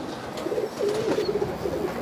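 Pigeons cooing in a pair kept by a fancier in Latur, Maharashtra, a soft low rolling coo repeating steadily through the moment, close by with no talk over it.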